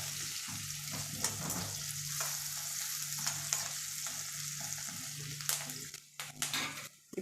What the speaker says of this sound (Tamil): இப்போ குயிக்காக வெங்காயம் வதங்கிடும்.